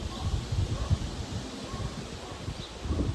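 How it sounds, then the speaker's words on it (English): Steady rushing wind noise outdoors with low buffeting rumble against the microphone and faint rustling, continuous and fairly loud, no talking. "it's getting really windy"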